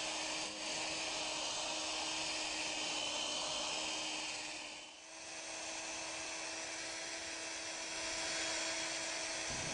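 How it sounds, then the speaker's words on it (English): An orbital sander works a 3M abrasive disc over a car headlight lens, a steady, close, high-pitched whirring drone that runs nearly without a break, with a brief dip partway through. "While you're sanding, you're going to want to cover the whole lamp as you're sanding."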